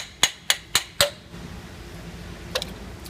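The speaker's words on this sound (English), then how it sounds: "just tap it with a hammer" Four sharp, evenly spaced metallic hammer taps on a water pump being removed from a Ford 6.0 Powerstroke diesel engine, close and clear, followed by a quiet pause and one faint later tap.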